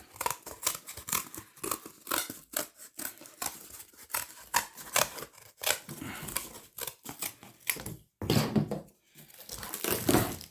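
Scissors cutting a circle out of paper or cardboard for a homemade piñata, repeated close snipping strokes in an uneven rhythm with crinkling paper between cuts.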